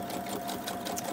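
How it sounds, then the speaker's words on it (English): A sewing machine stitches across the flap edge of a tracing paper envelope, a steady close whirring hum of the needle running continuously without pause. "Stitch across or along and then stitch across the, you know, the flap edge"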